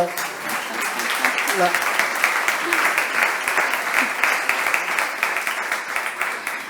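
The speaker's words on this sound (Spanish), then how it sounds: "us demano un fort aplaudiment per tot el" A congress audience breaks into sustained, strong applause, many hands clapping in a dense, even roar that continues throughout.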